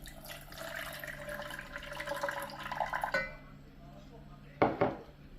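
Water is poured into a pot to start a baklava syrup, a soft steady splashing stream for about three seconds before it stops, followed by a brief clink of kitchenware, all fairly quiet.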